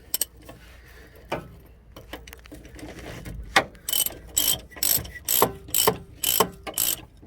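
A wrench tightens a front shock absorber bolt on a 4x4 Chevy Silverado pickup. After some quiet handling clatter come about seven sharp, rhythmic ratcheting strokes up close.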